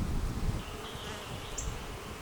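Honeybees buzzing steadily over a Flow Hive frame as they cap cells, a continuous soft low hum close by with no talk.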